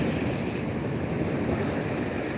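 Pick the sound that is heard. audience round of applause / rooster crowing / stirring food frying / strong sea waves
strong sea waves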